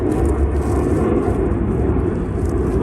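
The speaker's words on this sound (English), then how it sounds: "so many airplanes in Dallas" Airplanes roar overhead in Dallas near Freedman's Cemetery, a steady loud low rumble of jet engines filling the whole stretch with no gaps.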